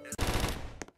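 A close, loud burst of rapid gunfire rattles for roughly half a second, followed by a couple of sharper cracks and a quick fade.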